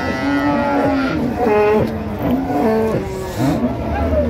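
Dairy cows and calves moo at Raniganj cattle market in Dinajpur, with several loud, close bellows overlapping in a steady run over a busy market hubbub.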